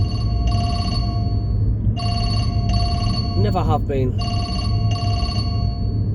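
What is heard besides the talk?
mobile phone ringing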